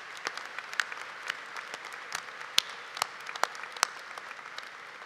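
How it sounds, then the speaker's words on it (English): Scattered applause at a college of engineering commencement, a thin spread of claps with several sharp louder individual claps standing out, fairly faint and distant-sounding. "Round of applause, live life well."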